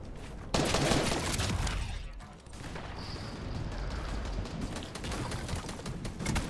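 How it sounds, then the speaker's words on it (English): Fortnite gunfire crackles in steady, dense volleys, moderately loud and sustained across the whole stretch, with a player's voice occasionally heard over the shooting. "he's trying to shoot me!"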